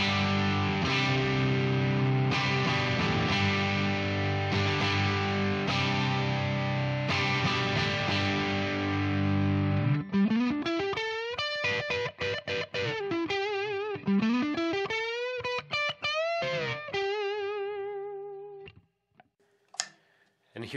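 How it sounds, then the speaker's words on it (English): Yamaha Revstar electric guitar with overdrive, played through a split single-coil and humbucker combined: loud chugging distorted chords for about ten seconds, then bending lead lines and quick riffs ending in a few sparse notes. "Here's a combination of the split single and the hum 4."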